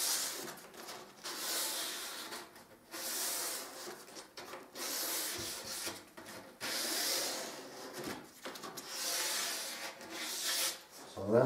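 Hand rubbing down a wall coated with a dried layer of wallpaper paste, a steady close-up scraping and sanding rasp in repeated strokes with brief pauses, and no voices over it.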